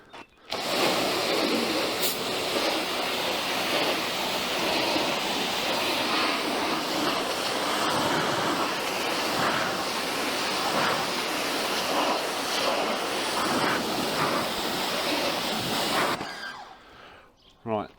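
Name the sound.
water rinsing off a car after wax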